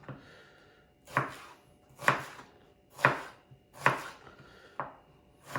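A knife chops onion and garlic into small cubes for a fettuccine pasta dish, six sharp near strikes landing about once a second against a cutting board, with no voices.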